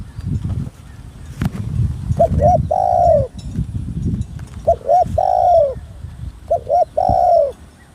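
Spotted dove cooing nearby: three rounds of short lead-in notes, each followed by a longer, drawn-out coo, over a steady rustling background.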